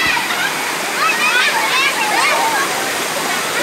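Phlio waterfall in Thailand pours with a steady, loud broadband rush of water that fills the whole stretch, with faint children's voices and splashing behind it.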